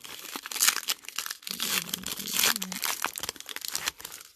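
Foil baseball card packs from retail blaster boxes are stripped open by hand, giving bursts of crinkling and tearing plastic close up, with brief pauses between rips.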